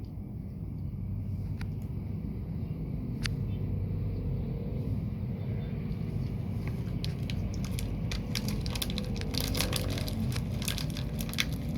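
A Transjakarta bus passes near a railway level crossing amid street traffic, a continuous low engine and road rumble with scattered rattling clicks and knocks building toward the end.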